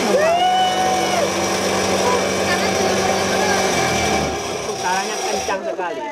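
A chopping and grinding machine spinning at about 3000 RPM, a loud steady high-pitched whine and rattle that holds throughout, dips slightly near the end, and has people talking over it.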